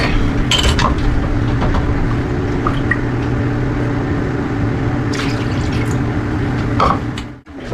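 Milk poured for a batter, a steady liquid rush running for several seconds with a few light clinks near the start and end before trailing off.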